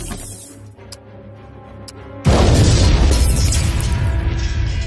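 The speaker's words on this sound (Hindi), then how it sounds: "भयंकर विस्फोट हुआ" A huge blast rips through a genetic research lab in a dubbed Hollywood action movie, bursting in suddenly after a quiet stretch and rolling on as a loud, sustained roar of debris and fire.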